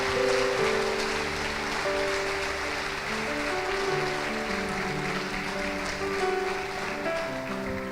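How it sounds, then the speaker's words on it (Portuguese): Church congregation applauding during a Sunday service: a dense, steady wash of clapping from many hands, loud and continuous throughout, with sustained musical tones underneath. "E aquele que crê aplauda Jesus com toda a força do seu coração."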